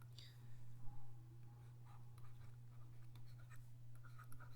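Faint scratching of hand writing runs over a low steady mains hum, quiet and close, with a few soft clicks.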